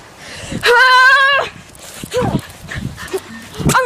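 Excited pet dog barking and whimpering during an outdoor chase after a woodchuck, with a long sustained whining yelp followed by shorter yips, mixed with a voice calling out nearby.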